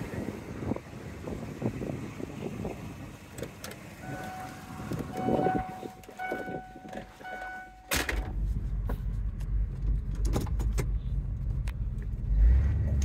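Cabin of a 1996 Ford Bronco Eddie Bauer Edition on the move: a low steady engine and road rumble with scattered clicks and rattles, growing louder and windier in the second half.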